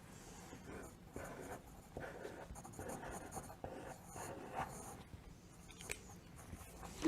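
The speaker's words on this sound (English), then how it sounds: "I will start with a pencil this time. I'll write it on the back, or you can write it on the front." A pencil writes on paper in short scratchy strokes with brief pauses between them, close and quiet, with no talking.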